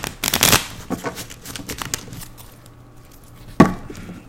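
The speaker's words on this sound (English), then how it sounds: "let me do more shuffling here." Tarot cards being shuffled by hand, a loud close burst of riffling and slapping at the start, then lighter taps and handling, and one sharp card snap near the end.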